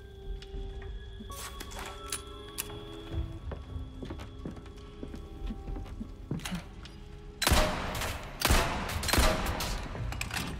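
Gunfire in Resident Evil 4 Separate Ways: a run of sharp game gunshots and impacts amid scattered mechanical clicks, ending in a denser, louder burst of shots near the close.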